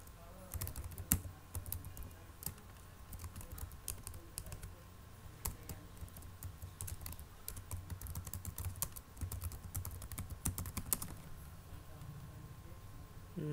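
Login details being typed on a computer keyboard, with quick, uneven runs of close key clicks that go on steadily against a faint background hum.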